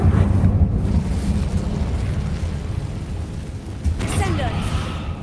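An Incendio fire spell in the Hogwarts Legacy video game, a loud whooshing fiery burst with a sustained roaring rumble and a second flare near the end.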